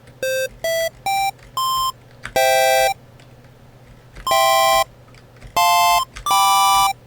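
A square-wave synth tone from the FL Studio 3x Oscillator, a bright buzzy beep played as a short series of notes at varying pitches, some clipped short and some held longer, loud and close over a faint hum.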